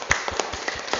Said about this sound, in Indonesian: Tepuk tangan dong untuk bagian CSR kita.